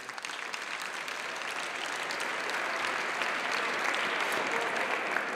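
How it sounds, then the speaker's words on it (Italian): Sustained applause in the Italian Chamber of Deputies, a broad dense wash of many hands clapping at a distance, holding steady and swelling slightly throughout. "Applausi."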